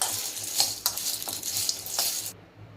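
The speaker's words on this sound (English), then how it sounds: "So first thing is I'm going to add these ingredients into the pan. So we're going to dry fry this." Dry ingredients are tossed and stirred in a hot pan with no oil, making a soft continuous sizzle and rustle broken by a few scraping strokes of the spoon, close and fairly quiet, before the sound cuts off abruptly.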